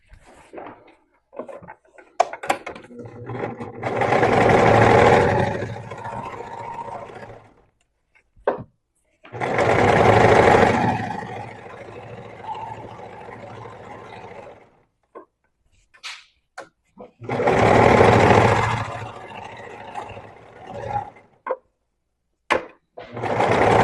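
A sewing machine stitches and gathers a fabric sleeve at raised stitch length and tension, running in three steady bursts of several seconds each, separated by quiet pauses filled with light handling clicks.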